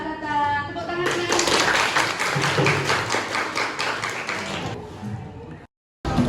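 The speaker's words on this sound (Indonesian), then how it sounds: "Tepuk tangannya" A classroom of students claps together in praise of a correct answer, a dense run of hand claps lasting several seconds before stopping abruptly, with brief voices at the start.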